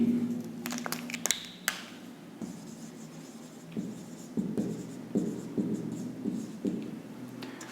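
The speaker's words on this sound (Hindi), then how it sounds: "थोड़ा नीचे लिखते इसको" A formula being written on a board during a class 10 coordinate geometry maths lesson, the marker squeaking and scratching in quick strokes, busiest at the start and then continuing in shorter bursts, close by with no talk.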